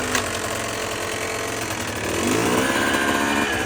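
A 2023 Beta 125 Race Edition dirt bike with a failed clutch runs close by, a loud buzzing two-stroke drone that rises in revs partway through.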